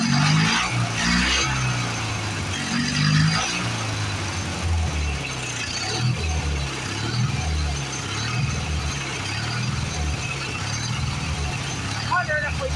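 A Craftsman GT lawn tractor engine with a bad carburetor runs steadily and loudly up close, with an uneven, lumpy throb that continues throughout.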